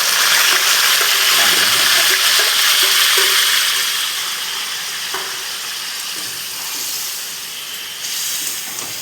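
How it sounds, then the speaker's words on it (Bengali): Marinated chicken hits a hot pan and sizzles with loud, steady hissing that eases slightly as it goes on. Occasional soft clinks of cookware sound over it. "ম্যারিনেট করা মাংসটা আমি ঢেলে দেবো।"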